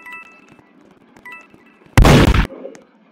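A single gunshot fired in the Roblox game Murder Mystery 2, a loud, sharp half-second burst standing out against quiet background game sounds and faint chimes.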